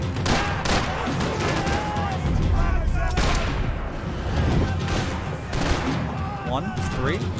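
Gunfire from a 9mm pistol in Max Payne 3, dense rapid shots and booming impacts layered under a busy game soundtrack and a voice talking throughout.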